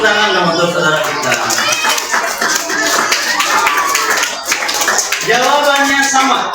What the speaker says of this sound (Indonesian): Tepuk tangan dong untuk saudara kita.